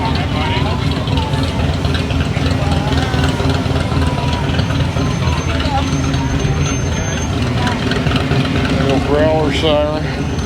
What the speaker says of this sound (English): Got a fire engine while we're waiting.